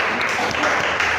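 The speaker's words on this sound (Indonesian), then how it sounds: "Tepuk tangan untuk semuanya ya." Class applauding student presenters after a presentation on avoiding student fights, a brief burst of scattered clapping in a room with faint voices mixed in.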